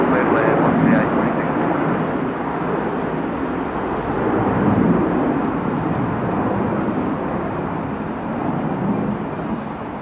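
An airliner landing on runway 34 at Melbourne Airport, a broad, steady engine roar that stays loud and close throughout with slight swells, with faint voices underneath.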